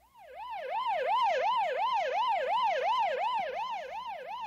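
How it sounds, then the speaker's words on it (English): An ambulance siren wails in a steady rising-and-falling cycle, loud and close throughout, with faint road noise underneath. "they sometimes need an ambulance to take them to the hospital"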